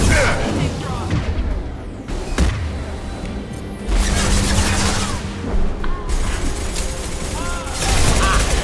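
Mass Effect 2 combat with continuous gunfire, crashes and booms from a concussive shot, loud and close throughout, while game characters speak over the fighting.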